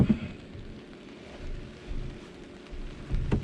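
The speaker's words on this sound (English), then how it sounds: "45 degrees and raining." Rain patters on a truck camper at 45 degrees during a storm, a soft, steady drumming with gentle swells and a few louder low thumps, heard from inside.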